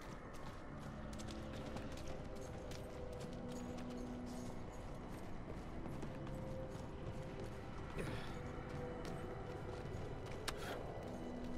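Horse hooves clip-clopping in the Diablo IV video game, a quiet rhythmic clatter of hoofbeats with creaking mechanical noises under ambient game music and sound effects.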